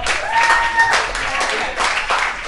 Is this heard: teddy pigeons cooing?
no